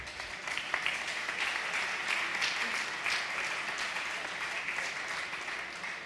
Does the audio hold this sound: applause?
yes